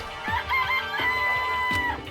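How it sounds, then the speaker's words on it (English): Cartoonish chicken clucks and a rooster crow from the Danganronpa video game, a couple of bright squawking calls over a steady musical background, close and fairly loud. "They're just regular chickens, right?"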